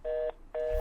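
Two short, clean telephone keypad tones beep in quick succession as a phone number is dialed, each a steady touch-tone note with a brief pause between them.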